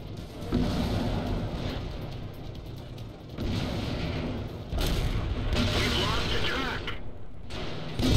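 An artillery strike in World of Tanks, several heavy booming impacts and rumbling blasts in quick succession, loud and close, with muffled game sounds between them.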